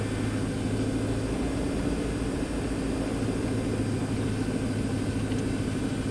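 A Diamond DA40 NG light aircraft's engine idles steadily while taxiing, a constant low droning hum with a broad rushing layer, heard from inside the cabin without a break and with no talk.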